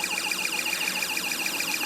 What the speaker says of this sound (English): So we can hear our output from the alarm IC there as it's again being pulsed by our PNP transistor there.